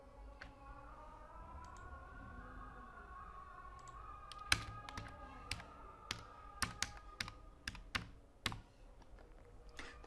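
Someone types on a computer keyboard while working in Excel, with a few sparse keystrokes at first, then quicker bursts of crisp, close clicks in an otherwise quiet room.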